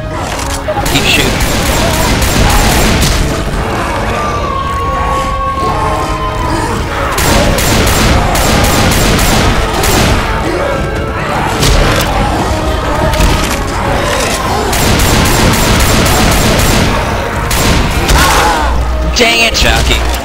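Rapid gunfire against zombies and a Tank in the video game Left 4 Dead 2, dense continuous shots and impacts at high volume with excited players talking over it.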